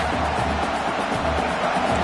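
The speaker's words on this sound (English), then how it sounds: "Listen to this crowd just shaking the girders of this place trying to help their defense." Stadium crowd in the College Football 26 video game roaring steadily as the home fans try to rattle the offense, a dense, unbroken wall of noise with no pauses.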